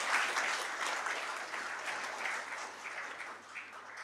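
A crowd of BJP party workers claps at a meeting in Ratnagiri, a dense, steady round of applause that carries on for the whole stretch and fades a little near the end.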